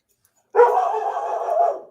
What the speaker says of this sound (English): And that's my dog barking at something outside.